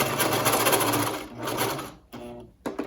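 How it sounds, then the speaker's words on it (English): A sewing machine runs in quick bursts while double stitching ribbon onto a child's washable face mask, with a rapid close whir, a brief pause and short restarts near the end. "Double stitch over to secure it."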